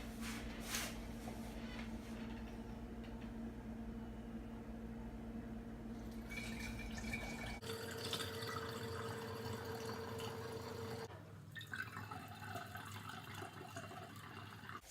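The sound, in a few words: fermenting apple cider poured through two colanders into growler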